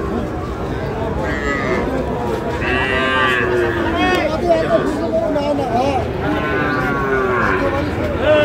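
Young bull calves at a busy cattle market give repeated loud, drawn-out moos close by, layered over a constant murmur of crowd chatter and people talking.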